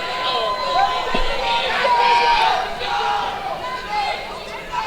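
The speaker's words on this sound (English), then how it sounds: "Big cheers right now from the crowd." A large crowd at an MMA co-main event roars and chatters in a loud, swelling wash of cheering and crowd noise, with voices mixed in.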